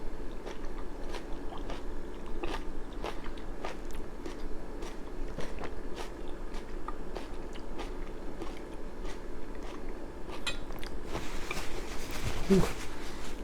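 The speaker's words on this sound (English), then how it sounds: "I've got tuna and kimchi with some broth on this bite." Someone chews a bite of tuna kimchi stew with broth, onion, radish and chili pepper, giving soft wet crunchy chewing close to the mic in a steady rhythm, with faint clicks and no speech.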